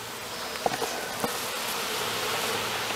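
Honey bees buzz softly as they are returned to their hive after varroa mite monitoring in February, a faint, continuous hum with a few brief louder buzzes near the start.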